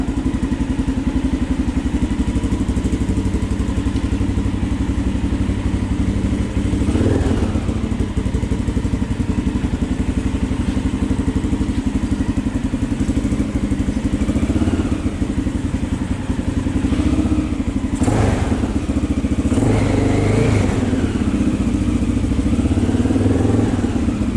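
A broken four-wheeler's small engine runs continuously with a loud, rough, chugging idle, punctuated by occasional clunks and rattles, close by throughout; no speech.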